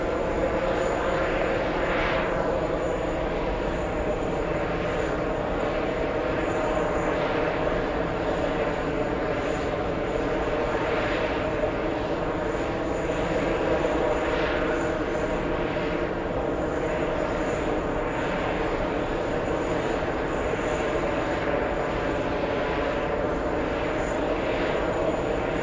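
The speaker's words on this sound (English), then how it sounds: "We have a 777 EVA 32 flying in from Taipei, landing in a few seconds." EVA Air Boeing 777 arriving from Taipei and landing, heard as a steady, continuous roar and whine of jet engines at moderate distance, without break over the whole stretch.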